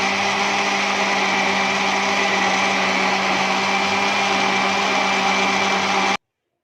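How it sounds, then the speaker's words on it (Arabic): An electric blender whirs through frozen mango for juice, a loud steady motor drone held for about six seconds before cutting off abruptly, with no voices. "كده خلصت ضربان العصير المانجا"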